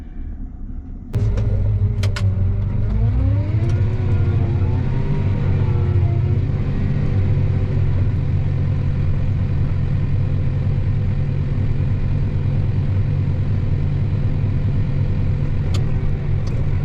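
A farm truck engine rumbles steadily as it drives toward a field on a windy, rainy day, the pitch rising and dipping once early on before settling into a loud, constant drone.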